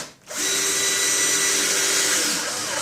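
A power drill drives 2.5-inch number 6 screws into pre-drilled holes in wooden studs while a fixed wall of a bicycle camper is built, giving one steady, loud, continuous whirr after a brief pause, with no talk.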